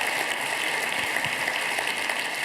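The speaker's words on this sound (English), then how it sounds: "Can I get another round of applause for LA?" A conference audience in a hall applauds, a dense steady wash of clapping that holds evenly through the moment.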